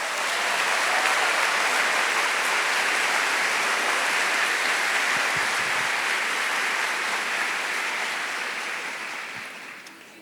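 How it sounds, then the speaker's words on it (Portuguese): Sustained applause from a church congregation for a priest at a Catholic gathering, a loud dense roar of many hands clapping that holds steady for several seconds before easing off toward the end. "Vamos aplaudir o Padre Fabrício?"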